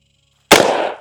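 A single close, loud shotgun blast fired at a clay target outdoors, with a sharp crack that decays over about half a second.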